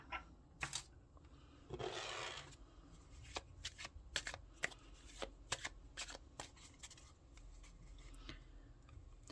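Tarot cards being shuffled up close: a soft riffle burst early on, then a long run of quiet, irregular card flicks and taps, faint against a low background hum.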